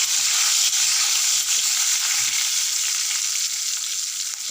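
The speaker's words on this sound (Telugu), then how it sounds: "వేసి బాగా కలపాలి కొద్దిగా పసుపు వేయాలి" Ingredients with chillies and turmeric fry and get stirred in a pan, a loud, steady hiss of sizzling oil running throughout with soft scraping underneath.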